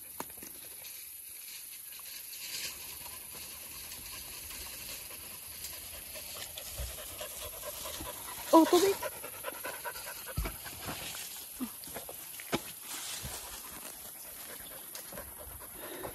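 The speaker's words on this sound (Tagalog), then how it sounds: "Pagod na pagod yung mga aso." Tired dogs pant steadily in quick, soft breaths outdoors at a coconut planting, with a brief murmur of talk and a few faint knocks.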